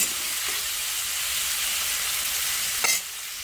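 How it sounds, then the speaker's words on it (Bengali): Onions sizzle steadily in hot oil, a continuous frying hiss with a brief stir or clatter near the end. "তারপরেতে পেঁয়াজগুলোকে ভালো করে ভেজে নেব"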